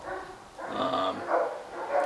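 A dog barks and yips close by in short overlapping bursts with a whimpering edge, outdoors where dogs are being worked with.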